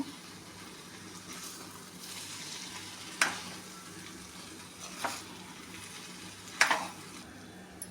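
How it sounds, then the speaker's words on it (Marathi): Cooked rice is stirred into a sizzling egg biryani masala, with a soft, continuous frying hiss and a few sharp spoon scrapes against the pan. "ते आपण भात मिक्स करून घेऊया मसाल्यामध्ये"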